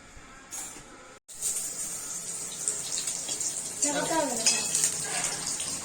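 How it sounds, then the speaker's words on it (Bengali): Paneer pieces frying in oil in a pan in a home kitchen, giving a steady hiss and crackle that runs throughout, with brief clinks and a short voice-like tone partway through. "পনির ভাজা হচ্ছে"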